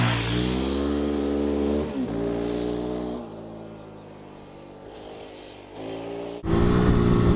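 A KOVE 450 Rally dual-sport motorcycle drifting under throttle in fourth gear, its engine revving loudly and steadily with pitch shifts and a sharp surge at the end.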